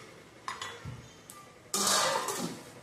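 A spoon clinks and scrapes against a cooking pot while basmati rice is stirred, with a few scattered metallic taps and then a steadier scraping rush near the end.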